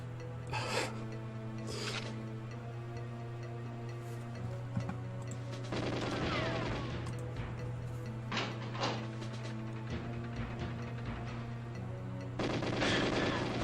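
Gunfire from the video game GoldenEye 007 on the Depot level, played as a speedrun: sharp shot bursts scattered through the clip over a steady electronic hum, with no talk.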